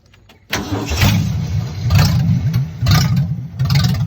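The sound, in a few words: rebuilt 1965 Ford Mustang 200 inline-six engine starting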